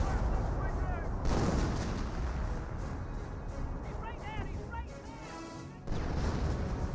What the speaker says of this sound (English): we've got artillery barrage running on in somewhere